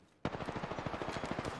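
Rapid automatic gunfire from a video game rattles out in a steady, loud burst of evenly spaced shots after a brief quiet start, continuing without pause to the end.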